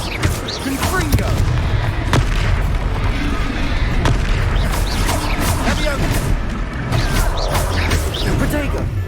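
Confringo spell explosions in Hogwarts Legacy, a dense, loud run of booms, crackles and bursts that keeps going throughout, with voices and battle noise mixed in.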